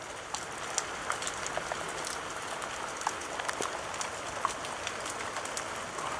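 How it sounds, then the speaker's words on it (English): Steady rain falls outdoors onto flowers and a sheltered smoking spot, a dense continuous hiss with scattered louder drips and patters throughout, no voices. "And as you can see, it's"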